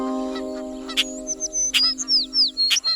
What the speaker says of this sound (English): they saw a group of parrots twittering aloud.